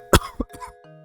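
A single sharp cough, close and fairly loud, followed by a short pause and then a few faint throat sounds trailing off.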